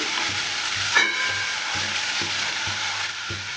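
Onion and tomato paste frying in a pan: a steady, loud sizzle runs throughout, while a utensil scrapes and stirs through it in repeated rhythmic strokes, close by.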